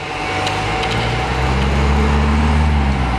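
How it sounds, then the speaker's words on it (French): A motorcycle engine drones steadily nearby, its pitch shifting slightly as it passes, loud and continuous throughout. "y a une moto qui passe"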